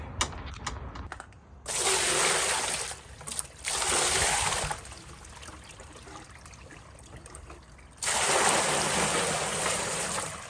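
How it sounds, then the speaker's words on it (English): Water pours from a hose into a pool filter cartridge housing to flush sediment from the bottom, a loud splashing rush in several bursts separated by quieter trickling pauses. "Just pouring water in it to clean out some of that sediment that's on the bottom."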